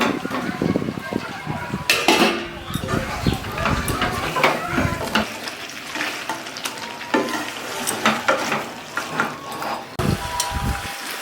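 Fried potatoes dropped into a pot of mutton curry cooked village-style, with loud sizzling and frying plus clattering stirring and spoon scrapes, busy and close, a voice briefly heard underneath.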